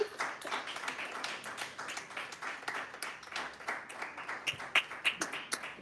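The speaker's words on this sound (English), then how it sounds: "Everyone applause, guys." Audience clapping during a live stream, a steady patter of many hands sustained throughout at moderate level, with no talking over it.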